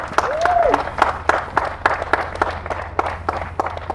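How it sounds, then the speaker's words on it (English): Wedding guests applaud at a ceremony, a crowd's clapping rising at once and then thinning into scattered, uneven claps, with a brief whistle near the start. "Can we give them a big round of applause on that beautiful story?"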